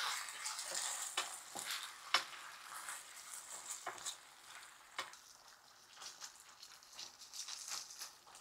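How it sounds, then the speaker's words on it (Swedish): Food fries in a pan with a quiet, continuous sizzle, while a utensil stirs it in irregular scraping strokes. "Och så blandar vi runt."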